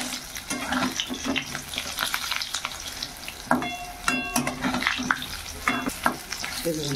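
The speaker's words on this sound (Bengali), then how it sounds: "কড়াইয়ের তেল হয়ে গেছে, এবার বড়াগুলো আমি এক এক করে তেলের মধ্যে ছেড়ে দেবো।" Gram flour fritters crackle in hot oil in a kadai, the sizzle rising in bursts as pieces are dropped in and turned, with clinks and scrapes from a utensil and no talking.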